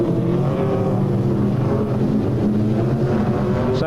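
Sprintcar engine at a Newcastle Motordrome race, a loud continuous motor roar with racing engines droning steadily throughout.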